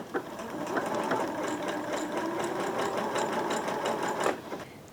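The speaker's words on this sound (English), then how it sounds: "I'm going to go to zigzag now, which is stitch number 10, and we'll do a little bit of the default zigzag." A Janome sewing machine runs a steady default zigzag stitch, its needle chattering in a fast, even rhythm close by for several seconds before stopping.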